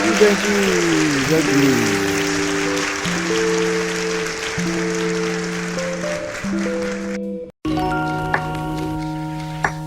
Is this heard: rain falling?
no